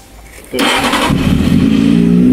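A motorcycle engine restarts during an oil service: a quiet lead-in, then the starter catches and the engine fires into a loud, steady idle that rises slightly, close up with no talking.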